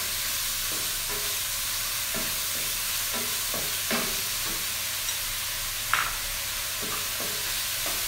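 Garlic and vegetables fry in a pan for a Malaysian-style vegetable soup, a steady close sizzle with repeated spatula stirs and scrapes and an occasional louder clack, no speech.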